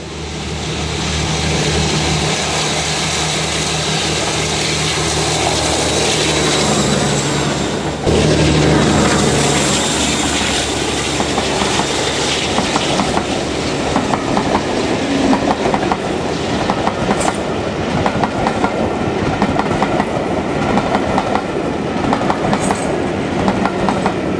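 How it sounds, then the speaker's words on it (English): The Western Champion locomotive, a Maybach-engined diesel, climbs towards Buxton through wet Chapel-en-le-Frith with a loud, sustained engine roar that fills the scene, and rhythmic wheel clatter comes through as it passes. "Western Champion climbs towards Buxton"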